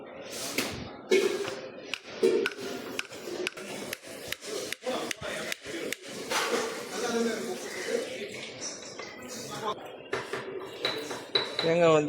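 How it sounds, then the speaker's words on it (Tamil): Coconut is broken into small pieces with a series of sharp knocks and hard thuds, interspersed with scraping and clattering, while a person talks between the strikes. "இப்போ சின்னதாக வந்து வெட்டிட்டோம்"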